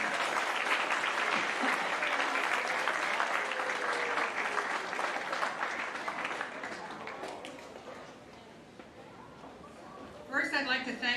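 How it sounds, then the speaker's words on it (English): School assembly crowd applauding three-sport athletes at an extracurricular awards event, sustained clapping that gradually thins and fades, with a voice coming in at the end. "And one last big round of applause for all the 3 sport athletes this season."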